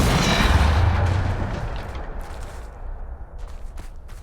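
Depulso force spells cast in Hogwarts Legacy: a loud, booming blast that opens the clip and rolls off into a long, fading rumble, followed by scattered softer thuds and crackles.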